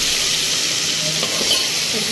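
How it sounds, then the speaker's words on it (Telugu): Dried red chillies and curry leaves crackle in hot tempering oil with mustard seeds for thummi kura pappu, a loud, steady, close sizzle with faint stirring. "ఇప్పుడు ఎండుమిర్చి కరివేపాకు కూడా వేసుకోవాలి"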